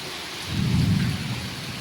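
Heavy rain falls over Ahmedabad with a low rumble of thunder swelling up midway and fading, the downpour hissing steadily throughout.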